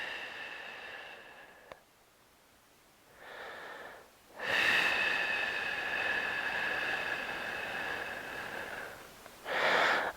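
Slow, audible breaths during a psoas hip flexor release with a ball: a faint exhale, then louder, wheezy, drawn-out breaths near the microphone, one sustained for several seconds.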